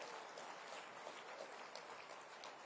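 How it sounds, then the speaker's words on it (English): Applause from an awards ceremony audience at a teacher-of-the-year celebration, a soft, steady wash of clapping heard at a distance and quite faint throughout. "Does that get a round of applause?"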